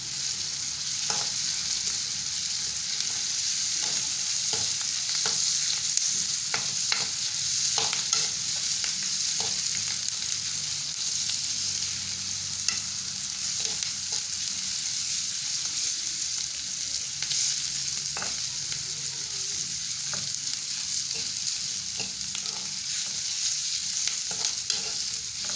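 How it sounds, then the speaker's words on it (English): Grated carrots being stirred and mixed in a cooking pot for carrot soup, a steady soft scraping and sizzling texture that continues throughout with faint irregular knocks of the utensil, no voices. "You can add your grated carrots. There you go. Then you mix them together."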